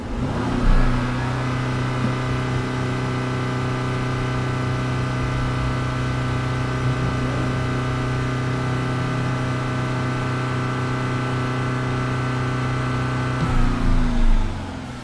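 Audi/Porsche car engine with a 48V battery and alternator charging fault, idling steadily with a strong low hum, then revved up briefly near the end, close and loud, no talking.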